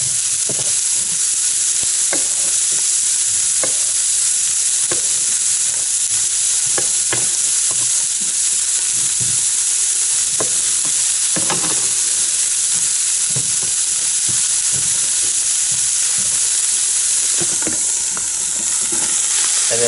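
Mushrooms, large ones halved and small ones whole, fry in a pan with a steady, loud broadband sizzle, while a utensil scrapes and stirs in repeated clicks and knocks throughout, with no voices.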